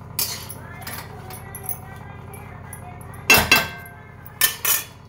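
A spoon stirs a vegetable dish in a metal pan, producing scraping and clinking strokes, close and fairly loud, with a few sharp metallic knocks and quieter mixing in between.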